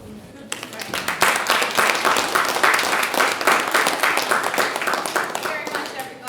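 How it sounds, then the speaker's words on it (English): Audience applause at a talk on challenging prisons for profit, a dense steady patter of many hands clapping for about six seconds with some voices mixed in. "I think that deserves applause."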